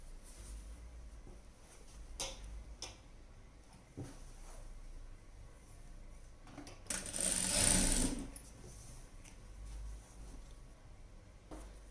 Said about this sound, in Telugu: ఇది అయిన తర్వాత సేమ్ ఇటు సైడ్ కూడా అదే ప్రకారంగా కుట్టండి.